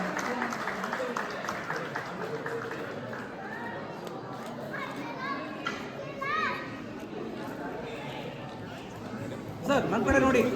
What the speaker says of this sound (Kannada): ಚಪ್ಪಾಳೆ ಹೊಡಿಬೇಕು